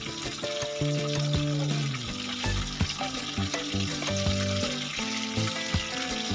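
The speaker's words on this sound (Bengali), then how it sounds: "এটা আমাদের লো ফ্লেমে 5 মিনিট ভাজা হয়ে গেছে। এটাকে আমরা এবারে আস্তে আস্তে উল্টে দেব।" Chicken kathi kabab skewers frying in a pan over a low flame, giving a steady close sizzle with faint clinks and scraping as the pieces are turned, no talk heard.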